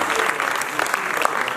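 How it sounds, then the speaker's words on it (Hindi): An award ceremony audience at a theater festival claps loudly for an artist, a brief burst of dense, crackling applause with sharp individual claps standing out. "एक बार जोरदार तालियां कलाकार की जरूर बजनी चाहिए"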